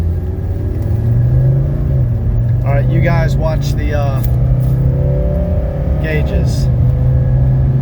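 A 1985 Mercedes 300D diesel pulls hard in a 0 to 60 run, its low engine drone rising steadily under clear nearby talk from inside the car.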